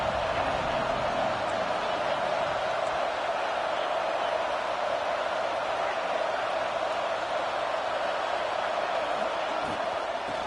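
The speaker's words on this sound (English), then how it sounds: "This crowd, full throat, splitting the eardrums" Massive stadium crowd at a Texas A&M football game roars at full throat on a third-and-one play, a dense, steady wall of noise that holds loud and unbroken throughout.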